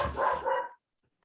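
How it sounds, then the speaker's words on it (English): A dog barks close by, a quick pair of loud barks running together in under a second, then silence. "my dog is barking"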